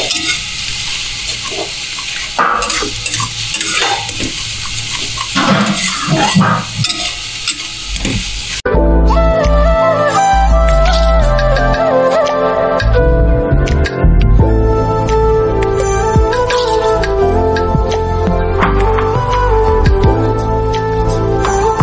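Eggs fry and are stirred into egg bhurji in a hot pan, with a steady loud sizzle and scraping stirs throughout, briefly preceded by a different clattering kitchen sound before the frying takes over.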